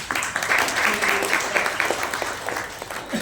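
An audience at an MSME exhibition event applauds in a dense, steady wash of clapping that swells and eases slightly over a few seconds.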